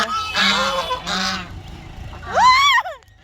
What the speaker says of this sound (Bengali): এই হাঁসগুলোকে আমরা রাজহাঁস বলি।